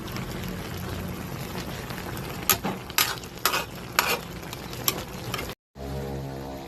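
Taro cooks in coconut milk as a spoon stirs it, making a run of distinct scraping strokes against the pot over a soft bubbling background, followed by a brief silence.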